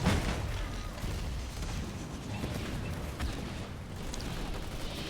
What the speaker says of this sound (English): Grenades going down on him.